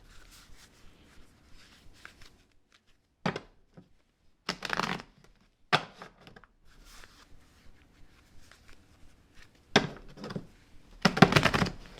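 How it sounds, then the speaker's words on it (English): Tarot cards shuffled by hand while wearing gloves, soft riffling and papery slaps coming in short separate bursts with quiet gaps between them, close up and with no talking. "I'm going to see if I can shuffle these cards the regular way with these gloves"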